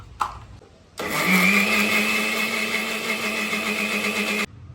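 Blender whirring steadily as it purees chunks of watermelon into paste, a loud continuous motor drone that starts abruptly after a short lull and runs unbroken for several seconds before cutting off.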